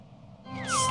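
A cat meows once, starting low and rising into a bright, drawn-out cry that swells loud near the end.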